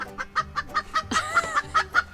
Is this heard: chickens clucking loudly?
yes